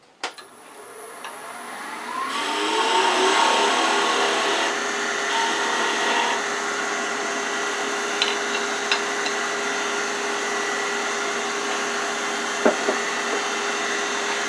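Wood lathe turning a chess pawn while a V cut is made at the top of the head: a steady, close scraping rasp of the tool on spinning wood, starting abruptly and holding continuously with a few faint clicks.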